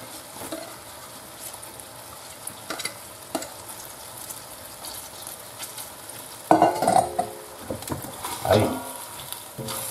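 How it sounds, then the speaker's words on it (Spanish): Chopped onion hitting a hot pan for lomo al ajillo gives a soft, steady frying hiss with scattered stirring scrapes and clinks, growing louder and busier in the second half; no one speaks. "Y ahora que se está dorando, echo la cebolla."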